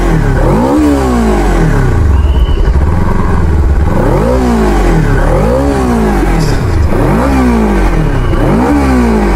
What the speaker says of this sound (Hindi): तो एग्जॉस्ट की आवाज सुन ली, काफी लाउड है, ज़्यादा प्यारी आवाज़ है।